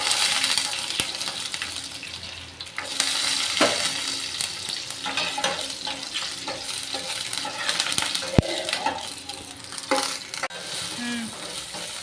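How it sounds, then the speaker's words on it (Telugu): Garlic, onions and mustard seeds fry in hot oil for sambar tempering over a low flame, a steady close sizzle with repeated spoon stirring scrapes and occasional metallic clinks against the pan. "పోపులోకి మనము వెల్లుల్లిపాయలు, ఉల్లిపాయలు, ఆవాలు అనేది వేసుకున్నాము. ఇవన్నీ బ్రౌన్ కలర్ వచ్చేదాకా ఇలా సిమ్లో కలుపుకుంటూ ఉండాలండి."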